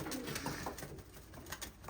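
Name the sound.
pigeon cooing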